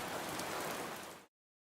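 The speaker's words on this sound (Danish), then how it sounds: "ikke mindst på grund af den begyndende regn" Rain begins falling as a steady, even hiss of drops on surfaces, moderately quiet, lasting just over a second before cutting off abruptly to silence.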